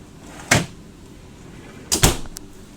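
Freezer door in a 2020 Cornerstone 45B RV, two distinct thumps of the door being opened and then shut, close and fairly loud with quiet between.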